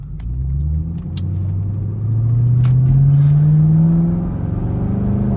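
Chevrolet Camaro SS V8 engine rumbling loud and close from inside the car, a deep steady drone that swells as the revs climb and then eases back.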